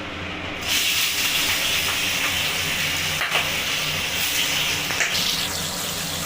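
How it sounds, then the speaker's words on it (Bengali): Pabda fish sizzle in hot white oil in a pan. The hiss bursts in suddenly and then holds steady and loud, with a few small pops and crackles and no voices. "তেলটা গরম হয়ে গেছে এর মধ্যে আমি একে একে মাছগুলোকে ছেড়ে দেবো"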